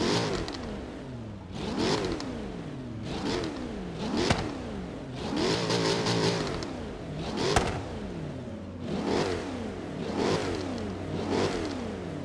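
Jaguar F-Type Project 7 in Forza Horizon 3, its engine revved repeatedly in rising and falling sweeps, about eight distinct pulls with brief pops between, moderately loud with no talk.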